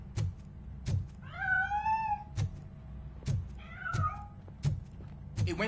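A cat meows twice in a video game, with drawn-out wavering cries that stand out clearly above regular thudding footsteps and quiet background noise.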